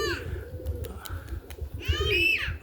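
A roller pigeon lands with brief wingbeats and coos in soft, throaty bursts nearby, the cooing swelling toward the end over faint outdoor background noise.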